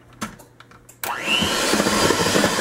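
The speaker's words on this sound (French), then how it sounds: "Du coup, là, je vais encore mixer." An electric hand mixer whirs steadily through black forest cake batter after vanilla sugar is added, starting abruptly after a few faint knocks and running loud and close with a rising pitch as it spins up, no voices.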